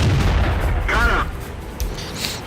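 A tank gun fires in World of Tanks, a 3-inch howitzer on a Lee tank, giving a loud low boom at the start with a rumbling tail and a brief voice partway through.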